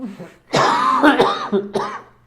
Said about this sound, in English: That's all he does is cough.